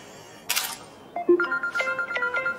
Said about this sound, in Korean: 잠깐만, 나 전화 왔어.